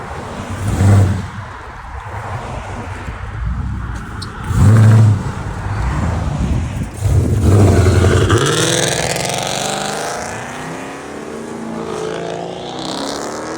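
A 2012 Dodge Challenger R/T with a 5.7L HEMI V8 and loud Flowmaster Outlaw exhaust rumbles, blips its throttle a few times, then roars and pulls away, fading into the distance.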